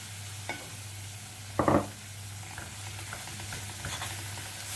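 Butter melting into caramel cooking over low heat, a soft, faint bubbling sizzle with a brief clatter of stirring partway through.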